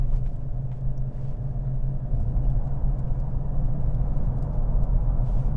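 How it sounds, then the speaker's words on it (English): Steady low road rumble from all-terrain tyres on a Nissan Navara pickup, heard from inside the cab at cruising speed, continuous and moderately loud with no speech. "They are all-terrain tyres, so there's a little bit of road noise."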